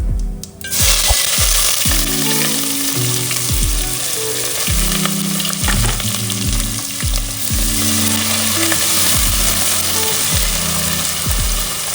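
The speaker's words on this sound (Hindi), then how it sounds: "अब मैं इसमें तड़का डालूंगी।" Whole cumin, garam masala spices and bay leaf crackle in hot oil for a tadka in dal makhani, a loud, steady, close sizzle with clattering stirs running through it, no talking.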